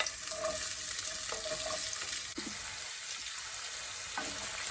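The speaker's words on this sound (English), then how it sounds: "while our onions are getting cooked" Chopped white onion cooks in olive oil with a steady, moderate sizzle and crackle, plus occasional soft stirring clicks, close by and with no talking.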